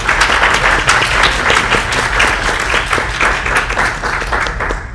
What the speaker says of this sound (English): So let's give them a last round of applause.